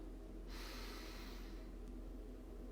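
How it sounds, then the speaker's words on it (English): One deep breath is drawn in sharply through the nose during a guided breathing exercise, starting about half a second in and fading after a second, quiet against a low steady hum. "so let's take a deep breath in"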